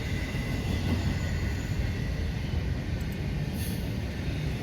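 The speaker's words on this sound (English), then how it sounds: "This train is running every bit of track speed, maybe a little more, but look at him go." A train passes at full track speed in a dense, steady roar of wheels and rail rumble that stays loud and close throughout, with a faint higher squeal near the end.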